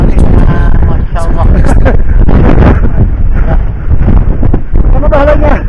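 Strong, stormy wind roars across the summit of Mount Merbabu on the Suwanting route. It buffets the microphone loudly and constantly while people talk over it.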